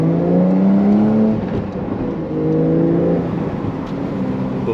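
A Porsche 911 Carrera T engine revs past 4,000 RPM while driving, heard from inside the cabin. The loud engine note sweeps upward in pitch, eases off, then climbs again through a gear change, with steady road rumble underneath.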